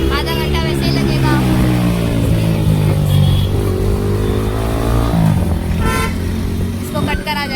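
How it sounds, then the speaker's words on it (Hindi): City road traffic in heavy congestion, with car and motorcycle engines droning and revving nearby and an occasional horn toot, while a person talks over the noise throughout. "ट्रैफिक देखो गाइस, ट्रैफिक एक तो ट्रैफिक हो गया है।"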